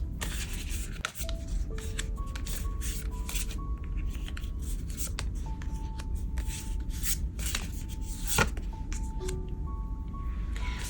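Tarot cards shuffled continuously for about eleven seconds, a dense steady riffling and sliding of card stock, close and moderately loud, with a few faint background tones and no talking.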